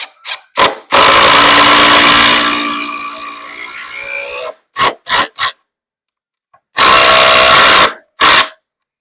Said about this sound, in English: Impact drivers are the best because they are so powerful